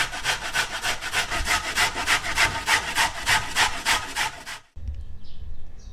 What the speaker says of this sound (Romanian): un morcov mic dat prin răzătoarea cu găuri mici